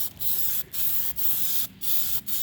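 Bursts of aerosol spray paint applied as a second coat to a BMW 335i kidney grille, converting it from chrome to black; four or five hissing sprays in a steady rhythm, close up, each under a second, with short pauses between.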